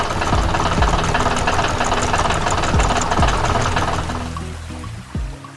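A small yellow animated tractor's engine runs in a steady knocking, rumbling idle, loud and close, then eases off toward the end.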